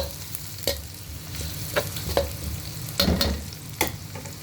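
Crushed garlic frying in a pan for a chicken liver dish, a low steady sizzle broken by several sharp scraping stirs of a utensil against the pan, close by.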